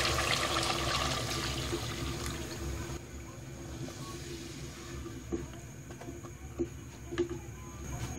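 About a litre of water poured into goat meat being fried for nalli biryani, a loud continuous gushing pour for several seconds, then settling into softer trickling with a few small clinks.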